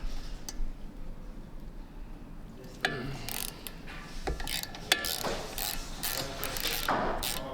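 Ratchet wrench with an 18mm socket cracking loose brake caliper bolts on a BMW F30 during an M-Performance brake upgrade; bursts of close clicking pawl ratcheting separated by short pauses and metallic handling knocks.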